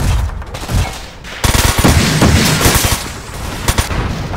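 Bursts of gunfire in the mecha video game Front Mission 4, loud and close, with dense rapid shots and sharp cracks building after a brief lull, filling the scene without voices.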